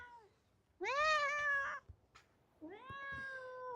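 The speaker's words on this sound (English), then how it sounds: "This is one of my cats." A pet cat meows twice close by, a long rising-and-falling meow followed after a short pause by a second drawn-out one, clear and loud against a quiet room.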